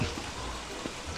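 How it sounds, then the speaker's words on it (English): Rain falls steadily in the video game Don't Starve Together, a brief, soft, even hiss of pattering drops with no other clear sounds. "It's raining because it's real life."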